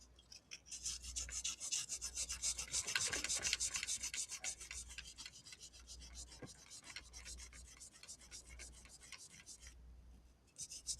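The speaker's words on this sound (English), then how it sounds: "We're going to hit this other side with a little wet sand and the buffer." Continuous rubbing and sanding on a guitar body during wet sanding and buffing, a steady close scrubbing texture with a sustained low motor hum from the buffer throughout.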